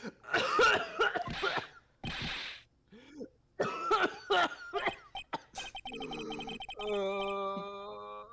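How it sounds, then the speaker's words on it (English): A series of harsh coughs and throat clearing in quick bursts with short pauses, followed by a short electronic musical jingle. "You're pretty good at doing those coughs, not gonna lie."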